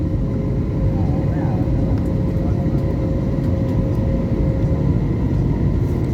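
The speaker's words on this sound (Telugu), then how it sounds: "రైట్ సైడ్ తిరుగుతుంది చూడండి ఫ్లైట్." A passenger plane's engines roar steadily inside the cabin as the aircraft banks to the right on its final approach, with faint voices in the background.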